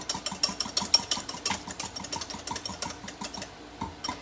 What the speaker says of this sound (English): So now I'm just going to whisk the egg together,